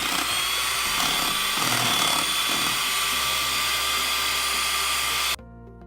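An electric mixer blends butter with Swerve sweetener for keto chocolate cookies, a steady high motor whir running close and loud for about five seconds before cutting off abruptly.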